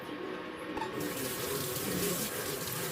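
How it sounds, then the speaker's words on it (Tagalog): Cassava roots washed under a running kitchen tap, a steady close splashing water stream filling and swirling in a sink throughout, with no talk. "Hugasan po na to para maputi-puti po ng balanghoy."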